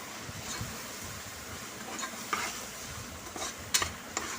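Coriander powder and chilli masala fry in a pan for a Kadapa-style green chilli chicken curry, giving a low steady sizzle with soft stirring scrapes and a few sharper clinks, close and without voices.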